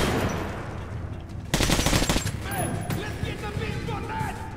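Gunfire in the video game Metro: Last Light, a burst of rapid shots that flares suddenly and loudly mid-clip over dense battle noise and a continuous low rumble, with a voice talking.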